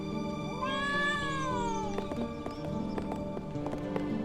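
A cat meows once in a rising-falling cry in the Trials of Mana game, heard over looping town music with light tapping sounds following.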